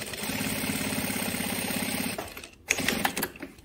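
A Juki DDL-7000A industrial sewing machine stitching four layers of fabric, a fast, even mechanical rattle for about two seconds that then stops, followed by clunks and handling noises close by.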